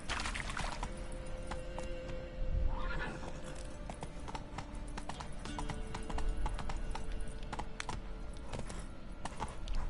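In The Witcher 3, a horse's hooves clip-clop at a steady trot close by, with a neigh partway through and light clicking under the hoofbeats.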